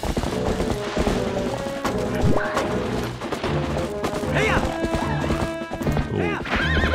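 Horse hooves clip-clop at a steady gallop with repeated neighs, set over continuous game music and effects from Zelda: Twilight Princess HD.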